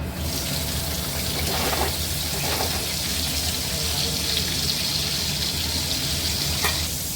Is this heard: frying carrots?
yes